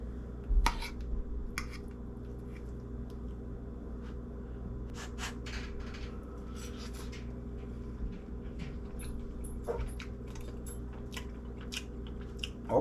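Someone eats Tave Kosi, Albania's baked national dish, with quiet close chewing and soft utensil clicks and taps spread across a hushed room.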